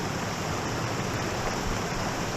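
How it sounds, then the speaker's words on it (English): A waterfall on a creek in the Dismal Creek area of Ozark National Forest, Arkansas, rushes as a steady, dense, unbroken wash of noise, close and even, with no voices. "There's another waterfall here."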